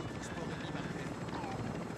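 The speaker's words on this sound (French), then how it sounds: "il y a un gros hélico devant" A large helicopter in a video game, a steady loud rotor drone filling the scene with faint background game sounds and a voice mixed in.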